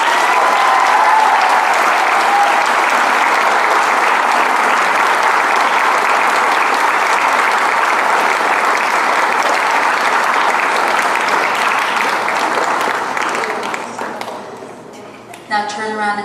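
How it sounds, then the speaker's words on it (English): An audience at a 2017 graduation ceremony breaks into sustained, loud applause, a dense wash of clapping hands that holds steady for many seconds before tapering off near the end. "Would you kindly and humbly show them your gratitude with a round of applause?"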